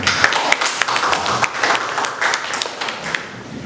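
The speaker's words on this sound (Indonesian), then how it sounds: "tepuk tangan untuk kelompok 5." A classroom audience claps for a student presentation group, dense steady applause lasting several seconds with sharp individual claps standing out, fairly loud and close.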